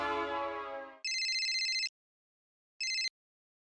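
An electronic phone tone sounds during a call: a descending chime run, then a steady bright electronic ring lasting under a second, a gap, and a second short ring, clear and alone without talking.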